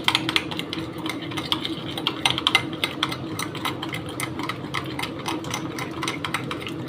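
A spoon rapidly stirs sugar into chopped mango fruit chaat in a bowl, producing a steady stream of quick clicking and scraping taps close by, with no talk.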